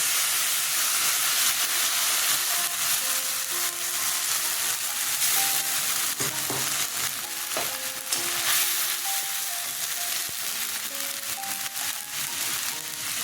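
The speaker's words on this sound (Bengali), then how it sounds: "কাঁচা লঙ্কা কালো জিরা ফোড়নে দিয়ে দিলাম" Green chillies and nigella seeds sizzle in hot oil as a Bengali tempering for a fish curry, a close, continuous crackling hiss with occasional clinks of stirring.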